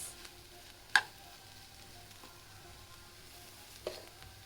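Potato fry with chilli powder sizzling in a pan, a soft, low crackle with two sharper knocks of a spoon against the pan.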